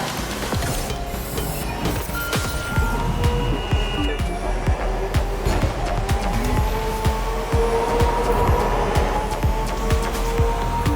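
A car from the racing video game The Crew 2 drives a mountain highway through a forest. A steady engine drone runs throughout, with repeated whooshes of passing traffic and occasional tire noise.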